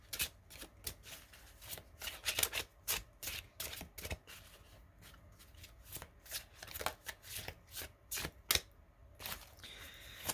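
Tarot cards being shuffled by hand: close, quiet, rapid riffling and slapping in irregular bursts, with no other sounds.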